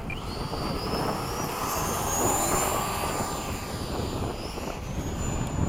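A Sunset Hawk model airplane flies overhead with flaps down and slows, its engine whine rising and falling in pitch at moderate distance over constant outdoor background noise.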